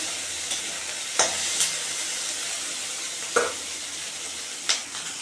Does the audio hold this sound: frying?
yes